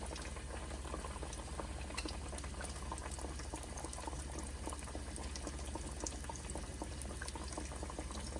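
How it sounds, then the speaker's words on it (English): Chicken breasts fry in hot oil, two at a time, for chicken fried steak, giving a continuous dense sizzle and bubbling, close and steady throughout with no talk. "My chicken breasts are so big that I'm frying 2 at a time."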